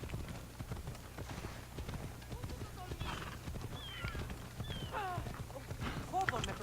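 Horse hooves clip-clopping at a quick steady gallop in the video game Assassin's Creed Odyssey, with whinny-like calls and someone talking over the hoofbeats.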